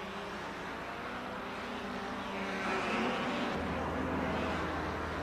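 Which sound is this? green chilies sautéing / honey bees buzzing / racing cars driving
racing cars driving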